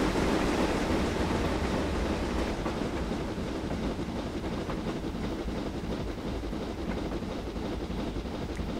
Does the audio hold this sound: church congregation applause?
no